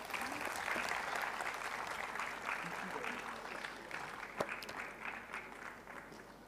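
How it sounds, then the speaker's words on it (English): Applause from an audience at a youth consultation event at AIIMS Rishikesh, steady, moderately distant clapping that slowly fades, with faint voices underneath. "Please give a huge round of applause for ma'am."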